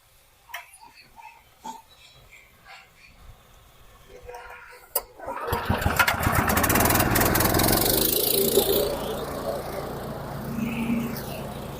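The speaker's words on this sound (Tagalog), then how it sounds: "yung ating engine na ginamit ay Honda gasoline engine" A Honda gasoline engine powers a shredder that grinds coconut husk and leaves into cocopeat and organic fertilizer. Sparse knocks and handling noises come first, then the engine and shredder start up and hold a loud, steady roar to the end.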